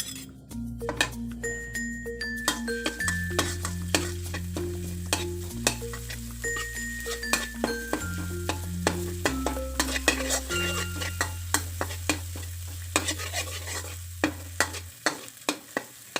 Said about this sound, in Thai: แล้วก็ใส่สามเกลือลงไปผัดให้หอมเลยนะคะ